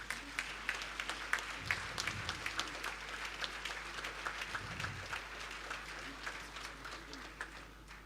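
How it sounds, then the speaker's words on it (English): Audience applause at a private event in Saravanampatti, Coimbatore, attended by the Tamil Nadu Governor: a moderate, scattered patter of clapping that runs steadily throughout, with a low voice murmuring beneath it at two points. "Please give a big applause"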